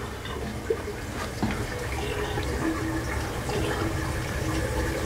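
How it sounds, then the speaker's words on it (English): Water drains down a newly installed sink drain with a steady rushing, swirling wash, fairly close and continuous, without a gurgle. "That is the way a sink is supposed to drain."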